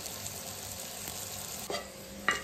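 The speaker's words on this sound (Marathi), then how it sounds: "कढीपत्ता, टोमॅटो टाकून ते व्यवस्थित परतून घेऊया।" Curry leaves and tomato frying with turmeric for a dal tempering, a continuous close sizzle with a couple of sharp spoon scrapes against the pan near the end.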